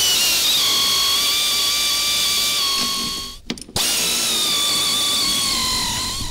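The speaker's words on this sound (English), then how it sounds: "It's a 5/8 socket, and I'm using an air ratchet" Pneumatic air ratchet with a 5/8 socket loosening the rear shock mount bolt on a golf cart during a lift kit install, a loud continuous whir that briefly drops out midway, then resumes steadily.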